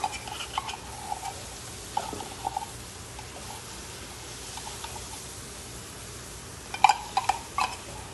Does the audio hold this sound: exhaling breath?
no